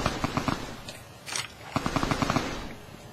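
Enemy automatic gunfire in Fallout: New Vegas, two loud bursts of rapid evenly spaced shots with a brief rustling gap between them and no speech over it.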